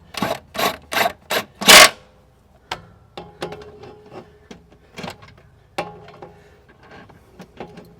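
Impact wrench snugging down bolts during a CV axle job on a 2014 AWD 3.6-litre Dodge Journey: four loud close rattling bursts in quick succession, then a string of quieter clicks and taps from parts being handled.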